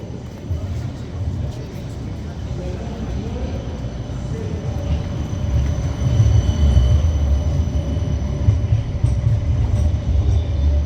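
Low rumble of a train growing louder as it passes close by at night, a steady roaring clatter filling the space.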